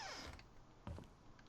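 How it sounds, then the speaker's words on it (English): A creaky door swinging shut in the horror game The Painscreek Killings, a short drawn-out creak followed by a soft thud near the middle, close and quiet. "we just love hearing the sound of the creaky doors"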